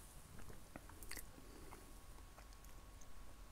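Imitation salmon roe beads from a sushi-making kit crunched between the teeth, giving a few small, close, faint bites and crackles over a quiet room with no talking.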